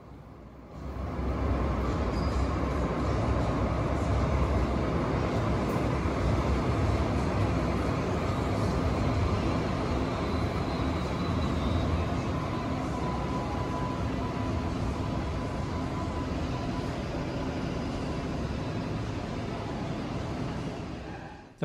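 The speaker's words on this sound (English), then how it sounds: "And another tram also approaching from the west side." An Alstom Citadis tram on the Sydney Light Rail L1 Dulwich Hill Line approaches a stop, a broad steady rumble that swells in quickly and holds loud and even for about twenty seconds before easing slightly.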